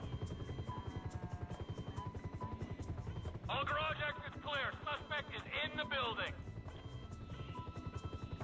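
A helicopter in the video game GTA 5 gives a rapid, pulsing rotor thump with a steady engine whine across the whole stretch, while someone talks over it in the middle.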